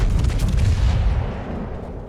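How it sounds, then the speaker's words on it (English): A video game warship's bow turrets fire in a heavy salvo, with a loud, close booming blast and a long rumbling decay and no voices. "Bow turrets fire."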